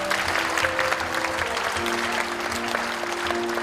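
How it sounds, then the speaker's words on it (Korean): A crowd applauds at a Democratic Party constituency report meeting in Seo-gu, Incheon, a steady wash of clapping under a faint background hum throughout. "여러분 함께 큰 박수 부탁드리겠습니다."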